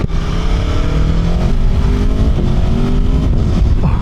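A loud Aprilia Tuono V4 motorcycle engine revs hard and steadily, with a deep throaty roar close by and no voices.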